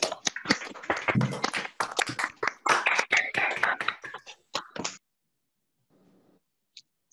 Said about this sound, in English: I'd like each of you to unmute yourselves and a round of applause